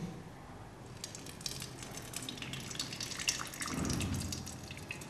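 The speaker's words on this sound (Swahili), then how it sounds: "Sasa tutamwaga maji polepole." Water poured slowly into a cooking pot of Kenyan kunde (cowpeas) with sweet potatoes, a soft trickling and dripping stream that swells toward the end, fairly quiet and with no talking.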